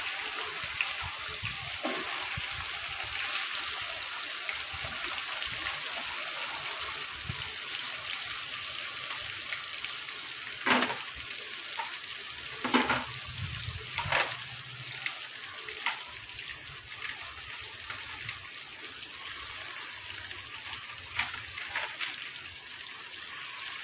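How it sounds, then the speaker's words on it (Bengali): Small crab pieces with a little turmeric dropped one by one into hot oil, giving a steady close wet sizzle with brief louder splatters as each piece goes in; no talking. "তেলে একটু দিয়ে দেবো সামান্য হলুদ, দিয়ে একটা একটা করে কাঁকড়া ছেড়ে দেবো।"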